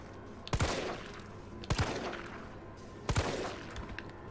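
Gunfire in Resident Evil 3 Remake: three sharp, loud shots spaced about a second apart, each with a short decaying tail over faint background ambience.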